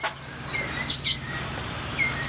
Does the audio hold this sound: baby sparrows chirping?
yes